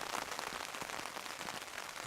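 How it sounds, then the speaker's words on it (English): Steady rain falling on a woodland wild camp with a simple tarp shelter, a dense continuous patter heard up close and alone, with no voices. "So you're under tarp now, away from rain. I'm out in rain."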